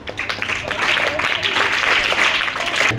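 An audience at a school event applauds to welcome guests, a dense, continuous patter of clapping from many hands at close to moderate distance, with a voice faintly beneath it.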